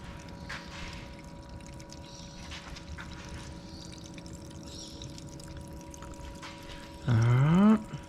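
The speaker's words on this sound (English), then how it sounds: "as you can see with the water, you can see it flowing" Water coolant flows through a PC water cooling loop with a soft, steady trickling wash. Near the end, a loud rising whine briefly takes over, and no one speaks.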